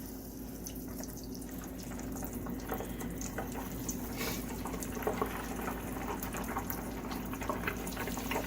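Faint, steady sizzling and crackling of bluegill frying in oil heated to 375 degrees, with scattered small pops and a low hum underneath, no talking.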